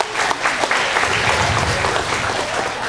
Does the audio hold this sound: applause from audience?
yes